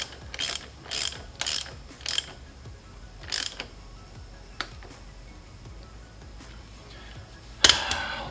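Ratchet cranking down a crankshaft bolt on a 1972 Chevy C10, a close series of sharp ratcheting bursts spaced by short pauses, then a louder final clatter.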